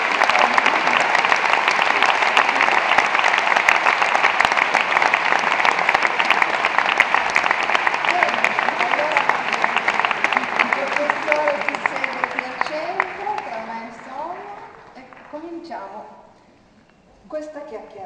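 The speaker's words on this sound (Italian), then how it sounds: "con un grande applauso, chiamiamo di nuovo sul palco" Sustained applause from an audience at a book-festival event in a Milan museum, welcoming an anthropologist back on stage; broad, even clapping for about twelve seconds, then thinning and fading, with some voices and movement near the end.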